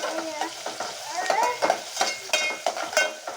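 Small chopped onions fry in oil in a pan while being stirred for wheat semolina upma, with a soft sizzle broken by scraping stir strokes and light clinks of the utensil.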